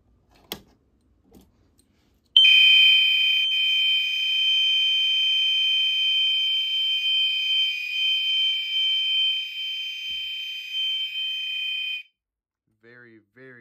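Commander 1 fire alarm horn blaring a steady, continuous piercing tone for about ten seconds, very loud and close, cutting off abruptly, with a few faint clicks and handling noises before it and brief talk after.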